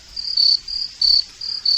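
Crickets chirp in steady, evenly spaced pulsing bursts, a high shrill trill repeating alone without any voices.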